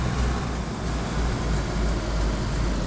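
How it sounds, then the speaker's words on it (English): A damaged car engine in the DayZ video game runs rough and loud, with a steady dense roar and repeated low knocking thuds throughout, and no voices. "it's making a lot of banging noise"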